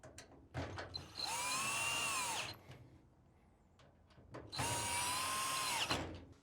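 Power drill driving screws to fix a bracket onto an Electrolux front-load laundry pedestal, two sustained whirring bursts of about one and a half seconds each, close and loud, separated by a short pause with light handling clicks.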